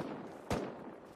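Two sharp, distant-sounding AK rifle shots from the video game Rust, one near the middle and one at the very end, over faint background noise.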